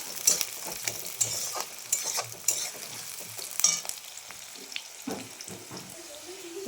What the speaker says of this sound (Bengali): এখন পেঁয়াজটা একটু লাল লাল করে ভাজবো